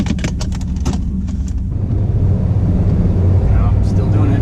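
A Trans Am with an LT1 engine drives on a road test, a steady close engine and road rumble filling the cabin, with some voice or clatter at the start.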